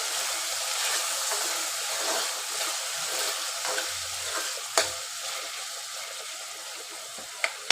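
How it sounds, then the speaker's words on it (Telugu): Keema and green peas curry gets stirred in a pan, a soft continuous sizzle with a gentle scraping churn, plus a few sharp spoon knocks against the pan near the end; no one speaks. "ఇప్పుడు ఒకసారి ఇట్లా కలుపుకుందాము."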